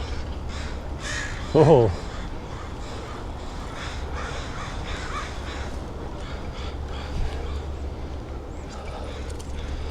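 A crow caws once loudly at a feeder in Vancouver, with a fainter caw later, over steady outdoor street background noise during a bike ride; a person briefly exclaims.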